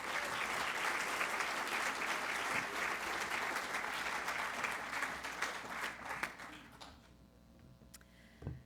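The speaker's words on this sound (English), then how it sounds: "May I please just have one more final round of applause for our winners." Full, steady applause from an awards ceremony audience for youth award winners, sustained for several seconds before tapering off into quiet room sound.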